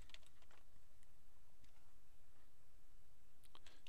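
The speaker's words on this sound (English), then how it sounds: "I'm going to type in Saturn" Keys tapped on a Mac computer keyboard, a faint, quiet patter of scattered clicks in a few short bursts over low background hiss, with no one talking.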